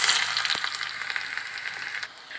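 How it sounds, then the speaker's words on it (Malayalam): Mustard seeds pop and shallots fry in hot coconut oil, a steady close sizzle with scattered sharp crackles and spits, with no talk over it. "കടുക് പൊട്ടി വരുമ്പോൾ 2-3 ചുമന്നുള്ളി വട്ട വരിഞ്ഞ് ഇതിലേക്ക് ഇട്ട് കൊടുക്കാം"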